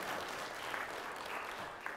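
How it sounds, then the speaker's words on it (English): Congregation applauding at a church service, a steady wash of clapping from many hands filling the room for the full two seconds with no talk over it. "I think you should give them a round of applause"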